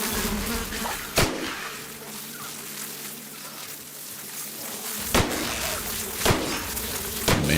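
A swarm of giant insects buzzes in a sci-fi shooter game, a dense droning hum broken by several sharp gunshot-like bangs.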